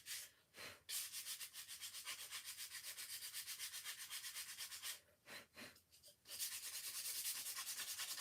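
Close, steady sanding rasp roughing up a craft piece for a distressed look, fast back-and-forth strokes running continuously with a few short pauses, quiet overall and alone.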